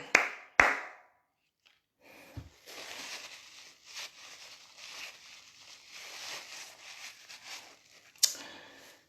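Prayer-meeting congregation applauding in praise of God, a sustained round of clapping after a couple of sharp isolated claps, fairly distant and moderate, ending with a brief louder burst.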